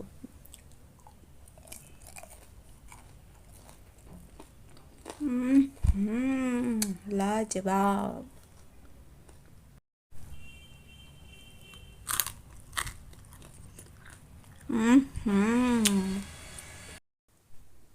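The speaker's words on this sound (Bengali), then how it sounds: "আওয়াজ শুনে বুঝতেই পারছেন কত ক্রিস্পি হয়েছে কুড়কুড়ে কড়াইশুটি" Crispy fried green peas are chewed up close, giving sharp, crunchy bites in a few separate bursts. A person talks between and over the crunching.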